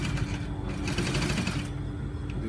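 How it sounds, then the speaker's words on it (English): A sewing machine runs steadily, stitching the collar of a button-up shirt, close and continuous for a couple of seconds with no talk. "I'm going to sew it."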